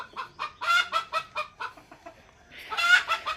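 Chickens clucking in a series of close, rhythmic bursts, with a louder flurry of calls near the end, kept by a household for laying eggs.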